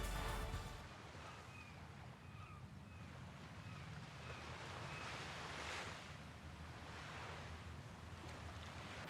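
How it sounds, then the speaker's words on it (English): Pacific Ocean surf rolls in a golf video game, a soft continuous wash of waves and wind, low and distant, with faint bird calls and no talking. "Yep, and that is the Pacific Ocean."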